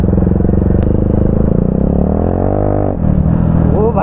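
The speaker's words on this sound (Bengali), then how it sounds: "ও ভাই এটা কি ছিল গাইস? চাকা স্কিড করেছিল।" Bajaj Pulsar 220 BS3 motorcycle with an Akrapovic exhaust, loud and close, its engine note rising and falling as the rear wheel skids on an open field, a brief drop in the roar near the end.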